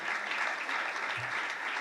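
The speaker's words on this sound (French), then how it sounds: "que je vous demande d'applaudir" Steady applause from a crowd at a New Year's greetings ceremony fills the whole moment, a dense, even wash of clapping without breaks.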